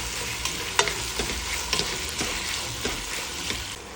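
Chopped vegetables stirred in a hot soup pot over sizzling garlic, with a steady frying hiss under repeated scraping clicks of the spoon against the pot.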